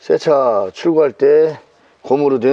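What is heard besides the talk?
None of the usual background noises is heard.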